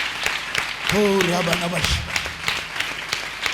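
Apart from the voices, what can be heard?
congregation clapping loudly to thank God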